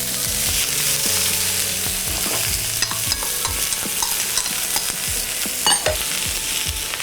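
Onions and cremini mushrooms sizzling loudly in a hot pan, a bright steady hiss with repeated stirring scrapes and utensil taps, no voices.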